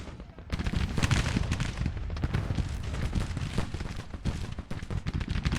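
Continuous battle din of artillery booms and crackling musket volleys from a Civil War strategy game, dense and steady throughout, mid-distance and unbroken.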